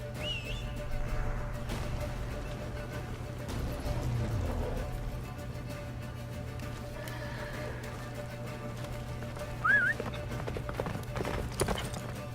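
Hooves of a horse in The Witcher 3 clip-clop at a quick gallop, moderately near and steady, with a whistle and a brief whinny heard over game ambience.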